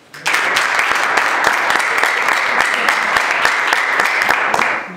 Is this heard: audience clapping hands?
yes